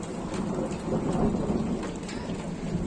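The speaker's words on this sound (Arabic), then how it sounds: "هاي ما شاء الله شوف المطر" Heavy rain pours down continuously, close and dense, while low thunder rumbles through it for the whole stretch.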